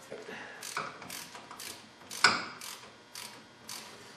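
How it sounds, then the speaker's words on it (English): A ratchet wrench threads a bolt into a Ford Explorer front axle during a wheel bearing replacement, giving a series of close, rhythmic ratcheting clicks with one sharper metallic clack midway. "kind of thread it in there with my ratchet wrench"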